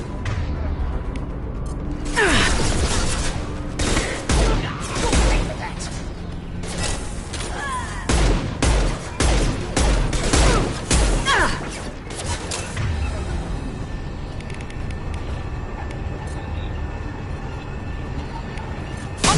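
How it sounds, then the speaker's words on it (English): Heavy impact-shot gunfire and crashing blasts from the video game Mass Effect 2, loud bursts and thuds in a busy combat scene, with voices shouting over the action. "Firing an impact shot!"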